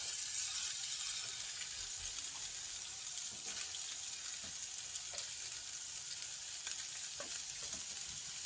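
A thick prime wagyu ribeye steak sizzles in a hot pan. The frying hiss is steady and close, with faint crackles and pops throughout and no talking.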